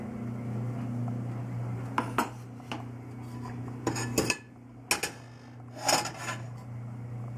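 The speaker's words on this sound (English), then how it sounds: "So I've got the onions diced. I'm just going to add them to the pot." Diced onions go into a cooking pot while a vegetarian spaghetti sauce is being made, giving several sharp clatters and scrapes of food and utensil against the pot over a steady low kitchen hum, with no talk.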